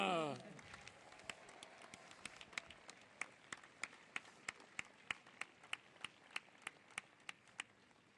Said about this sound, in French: On applaudit Camille.